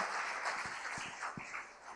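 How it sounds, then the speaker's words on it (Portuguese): Church congregation applauding during a Portuguese-language worship service, a steady wash of many hands clapping at moderate distance with a few lower thumps, continuous and fairly even throughout. "Você pode dar um aplauso a Jesus?"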